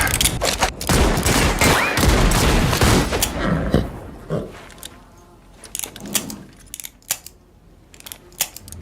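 Gunfire from the animated Lucky Luke series comes as a loud, dense volley of rapid shots for several seconds, then thins into scattered sharp single cracks.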